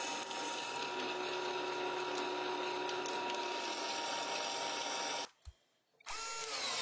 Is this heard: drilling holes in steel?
yes